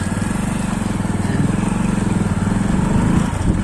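A motorcycle engine idles steadily after starting, a loud, continuous close-up rumble with an even pulsing throb and no voices over it.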